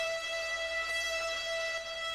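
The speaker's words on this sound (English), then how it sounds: "Here's distortion." A steady, buzzy synthesized tone rich in gritty harmonics holds at a constant pitch, sounding saturated and harsh.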